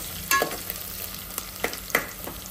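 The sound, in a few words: ingredients frying in a pan for mutton curry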